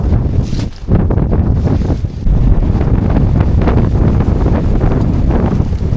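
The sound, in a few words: strong wind on a mountain ridge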